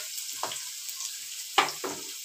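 Finely chopped onions go into a pan and fry with a soft, steady sizzle, broken by a few quiet stirring scrapes.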